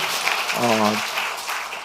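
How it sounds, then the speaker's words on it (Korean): Worshippers at a Korean Sunday church service clap steadily in praise to God, a continuous crowd applause with a brief voice rising over it midway. "하나님께 영광의 박수를 돌리고요"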